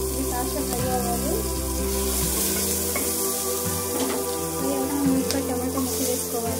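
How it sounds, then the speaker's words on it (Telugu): Onion pieces fry with masala in a pan, a steady close sizzle with some stirring and clatter and a tonal hum running underneath throughout. "తర్వాత ఇది ఉల్లి ముక్కలు వేసుకుందామా। వేసుకుందామా। ఇది కాస్త ఫ్రై అవ్వాలి"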